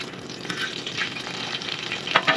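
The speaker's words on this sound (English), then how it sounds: "would you listen to that sizzle?" Pork belly sizzles and crackles steadily in a hot pan for pork belly sandwiches, a close, dense hiss with light stirring scrapes and a few sharper pops near the end, no voices.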